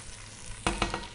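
Minced lemongrass tipped into a hot pan bursts into a loud sizzle after a quiet moment, followed by a few scraping stirs as the frying crackles on, close and without talk.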